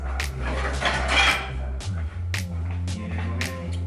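A lid clanks onto a cooking pot of beans, with a few sharp metallic knocks and rattles over a low steady hum.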